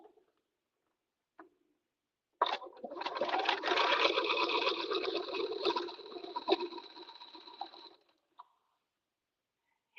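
A home sewing machine top stitches a Forager Vest, a few single clicks first, then a steady rapid whirring run of about five seconds that stops abruptly, followed by a faint click.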